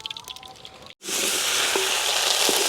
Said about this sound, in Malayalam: എണ്ണ തിളച്ച് കടുക് ഇടുന്നു